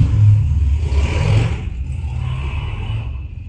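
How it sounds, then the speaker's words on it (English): A loud car roars past close by, its engine noise swelling strongly at first and then fading into a steady, lower rumble as it moves away, with no talk over it. "Your car is so loud."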